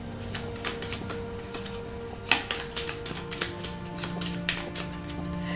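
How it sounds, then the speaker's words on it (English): A pile of playing cards from the Dominion deck-building card game being shuffled, a quick run of soft, papery riffling clicks and taps close by, with faint background music underneath. "You shuffle your discard pile,"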